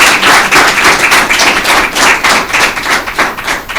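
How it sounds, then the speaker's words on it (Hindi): Loud, close audience clapping for two teams at a Christmas Bible quiz, many hands in quick uneven bursts with a rhythmic pulsing feel throughout. "तो मैं चाहूँगा कि इन दोनों टीमों के लिए पहले ज़ोरदार तालियां बजाएं"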